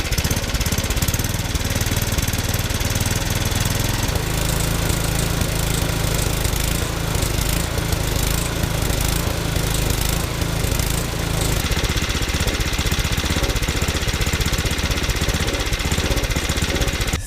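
A Yard Machines snowblower engine, with a faulty carburetor, runs on partial choke. The close, loud, steady mechanical drone holds without a break the whole time, with a slight shift in tone partway through.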